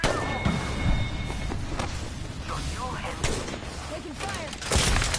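Battle gunfire from a PS4 shooter game, a dense run of shots and thuds with louder bursts near the start and end, mixed with game voice callouts and effects.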